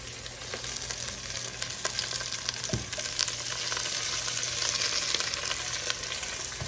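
Vegetables charring in a hot pan give a steady, close, loud sizzle and crackle throughout, with one brief knock partway through and no talking.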